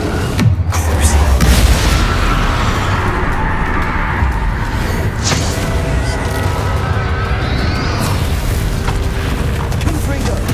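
Hogwarts Legacy gameplay with a Confringo blasting spell: a booming explosive burst opens the clip, followed by loud, continuous rumbling, crackling and whooshing combat effects, with a few sharper hits along the way, all thick and dense without clear speech.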